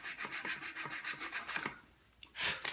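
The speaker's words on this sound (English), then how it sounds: "So I'm just gonna sand off from the bottom." A model aircraft wing part is sanded on plywood in a steady series of rhythmic rubbing strokes, close and fairly quiet, ending in a short pause and a couple of final strokes, with no talk.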